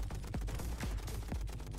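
Robots trading fire in the Robot Warfare video game: loud, rapid gunshot bursts that overlap in quick succession, with no talking.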